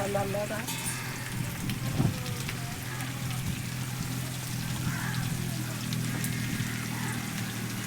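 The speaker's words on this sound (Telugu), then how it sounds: "వాన ఉంది" Steady rain patters on a surface with a soft continuous hiss, while faint voices murmur in the background and occasional clinks break through.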